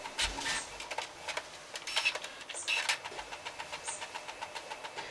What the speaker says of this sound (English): it'll contact the printer, preparing to print, and then it will send those pages to the printer